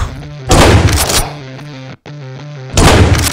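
Loud bursts of automatic gunfire in Doom: one long volley, a brief pause and a short gap, then another heavy burst starting near the end.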